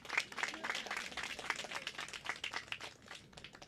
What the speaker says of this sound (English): I want to give him a round of applause for all the hard work you do on behalf of the country.